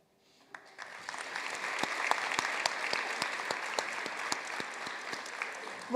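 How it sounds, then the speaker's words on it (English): A graduation ceremony audience applauds, with dense, steady clapping swelling quickly and holding strong throughout, filling the hall with many hands. "One final round of applause for all of our graduate level graduates."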